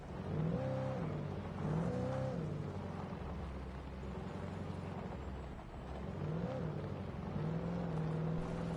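Car engine in Alan Wake Remastered, a steady droning hum with a few rising and falling revs as the vehicle drives along, loud and continuous.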